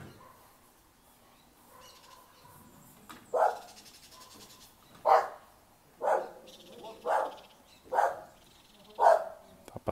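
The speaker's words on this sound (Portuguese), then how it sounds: "Uma cachorrada latindo." Several dogs barking at a distance in an outdoor rural setting, heard in about six separate bursts spread roughly evenly over the span, with faint background sounds between them.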